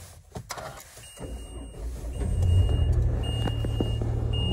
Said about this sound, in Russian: Автомобиль заводится с кнопки.